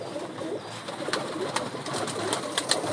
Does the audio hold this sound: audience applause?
no